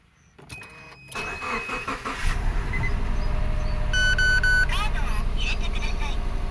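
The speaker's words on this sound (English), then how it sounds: "Let's start the car again." A 2012 Subaru with a misfire: the starter cranks briefly with a chime sounding, then the engine catches and settles into a steady idle rumble; electronic beeps ring out over it.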